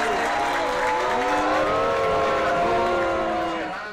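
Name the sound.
crowd booing the president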